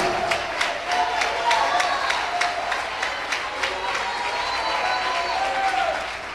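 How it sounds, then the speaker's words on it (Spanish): A church congregation applauds steadily through the whole stretch, dense crowd clapping with a few scattered sharp claps standing out, while voices murmur and call out underneath. "por eso usted aplaude, porque es palabra de Dios"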